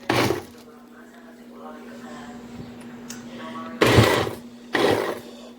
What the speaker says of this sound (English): you just grate it little by little